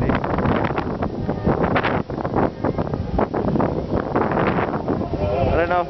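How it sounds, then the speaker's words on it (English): Strong wind on a ski slope in Japan buffeting the microphone with a constant roaring rush, while a person talks throughout, close and loud. "It's so windy today, they've had to shut down some lifts."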